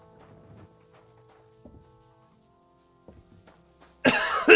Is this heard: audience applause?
no